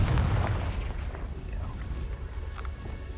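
A Confringo fire spell from Hogwarts Legacy bursts against dry vines, a steady, rumbling roar of flame with a deep low boom running through the whole span and no clear pauses.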